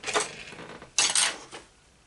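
Gentle taps of a lemon soap mold on a hard surface: a few soft clattery knocks spread over two seconds, close and fairly quiet, with no talking.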